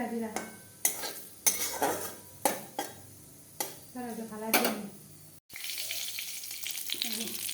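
Cumin seeds and a bay leaf fry in hot oil for an egg curry, a soft sizzle broken by sharp clanks and scrapes of a utensil against the pan, then a steadier hiss.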